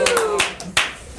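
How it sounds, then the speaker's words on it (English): Three loud, sharp hand claps close by at a convention panel, spaced irregularly, with a voice speaking briefly at the start. "was really loud clapping"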